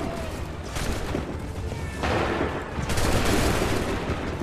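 Musket volleys crackle in Assassin's Creed 3 during a Montreal battle, bursts of overlapping gunfire from a line of soldiers, loud and close, with shouted voices mixed in.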